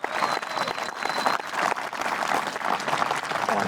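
Sustained applause from a crowd at a disc golf final honoring the champion, a dense, even wash of many hands clapping with no break.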